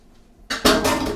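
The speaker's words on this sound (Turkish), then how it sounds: "Bir yemek kaşığı bal koyuyorum." Honey spooned into a cake batter for a fat-free, flour-free, sugar-free cocoa diet cake, with a brief clink of a spoon against a bowl, then a louder run of clattering and scraping that lasts to the end.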